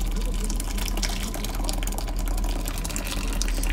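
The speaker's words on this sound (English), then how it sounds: "Here I'm just putting my strainer over a bowl to catch all the sauce." Red chili enchilada sauce pours through a strainer into a bowl, a steady liquid trickle and splash running throughout.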